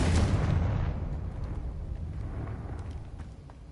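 The Confringo explosion spell going off in Hogwarts Legacy: a heavy, rumbling blast that starts at full strength and slowly decays into a crackling, fading tail, with no voices over it.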